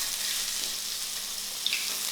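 Onions hiss in oil in a smoking hot wok, a short burst of dense, even sizzling up close with no talking.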